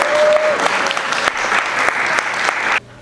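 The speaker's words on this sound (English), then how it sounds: "Can we get a round of applause?" A crowd at a walk against gun violence applauds, a dense wash of many hands clapping at once that carries steadily and then stops abruptly near the end.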